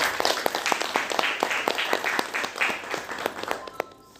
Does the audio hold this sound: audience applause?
yes